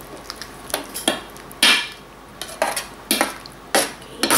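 Beef mechado stirred in a pot, a spoon scraping and knocking against the metal in irregular loud clanks with quiet gaps between them.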